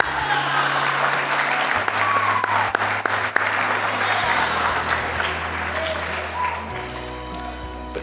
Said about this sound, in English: a round of applause for the first half of the group